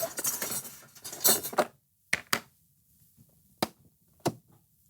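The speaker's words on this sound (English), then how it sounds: "Now we simply need to insert the pan into the oven." A baking pan is slid into a light-bulb heated toy oven, heard as a close burst of metallic scraping and clattering, followed by a few sharp separate clinks and taps with quiet gaps between them.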